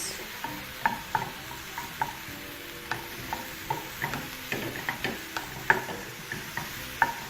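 Garlic and mushrooms sauté in a pan with an even, close sizzle, broken by regular sharp clicks and scrapes as a utensil stirs against the pan.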